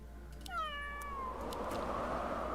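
A cat unit in the strategy video game Legion TD2 lets out a single drawn-out, falling meow, fairly faint over steady game background noise and a low hum.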